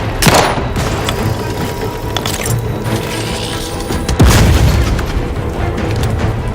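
Grenade blast in the video game Outer Worlds 2, a loud booming explosion that hits hard and then rumbles on amid dense combat clatter and gunfire-like pops.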